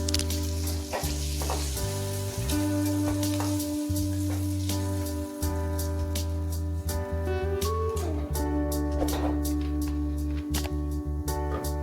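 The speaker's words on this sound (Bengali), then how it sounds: "মাছগুলো ভাজা হয়ে গেছে, তুলে নেব।" Fish frying in hot oil gives a steady, dense sizzle that runs unbroken for the whole stretch, close and fairly loud, with faint bubbling crackle and no voices.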